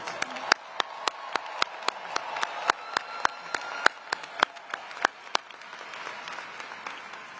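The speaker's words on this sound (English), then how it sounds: "Please give them a warm round of applause." Applause from an audience at a university graduation ceremony: a sparse run of sharp, steady claps with a soft murmur of hands beneath, fairly quiet and evenly paced.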